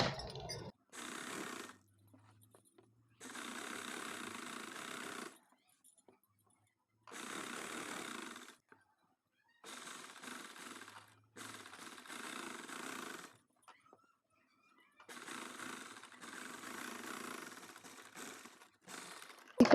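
A sewing machine stitches a four-panel petticoat in about half a dozen short whirring runs, each stopping abruptly into near silence, close by and moderately loud.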